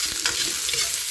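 Ginger sizzling steadily in hot oil while being sautéed in a pan, a close, continuous hiss with faint stirring scrapes and no voices.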